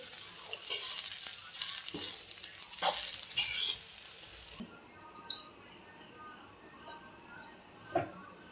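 Spatula stirring leftover chapati poha in a pan, with soft scraping and light sizzling bursts that are busier at first, then sparser, close and moderately loud with no talking.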